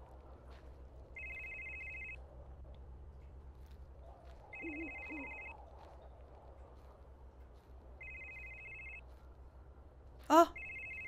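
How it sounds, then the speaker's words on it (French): A telephone rings in a video game, four evenly spaced electronic trills over a low background hum, with a person talking between rings. "Where's that ringing coming from?"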